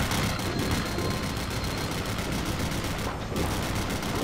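Dense, continuous bursts of machine-gun fire from a Men of War game battle set in the Vietnam War rattle without pause, with one brief lull and a rumbling battle din underneath.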